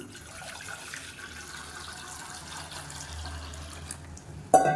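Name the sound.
water poured into a pan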